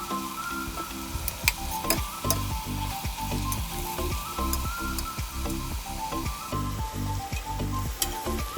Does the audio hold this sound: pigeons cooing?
no